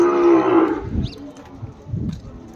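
Calves at a weekly cattle market in Kodada give two deep, close moos about a second apart, following a brief tonal sound at the start.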